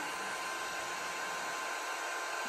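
Small battery-powered desk vacuum whirring continuously up close, a steady, fairly loud high-pitched motor drone with an even tone and no talking over it.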